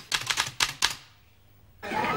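A run of quick clacking typewriter keystrokes, five or six sharp taps in a brisk burst, then a short pause before a louder rattling mechanical sound starts.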